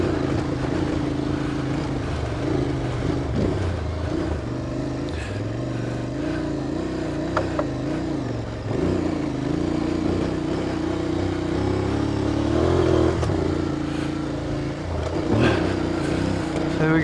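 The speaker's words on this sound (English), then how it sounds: "As soon as you stick it into second, the bike just rocket propels forwards." An adventure motorcycle accelerates hard in second gear on a snowy high-altitude mountain climb, its engine droning loud and continuous with rising pitch under wind buffeting.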